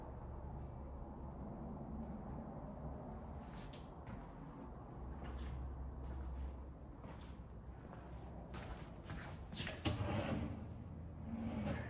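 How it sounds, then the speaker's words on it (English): A large built-in drawer in a modular home's dining room slides open with wooden rumbling and a few knocks and clicks, close by in a quiet room. "Now that's a big old drawer."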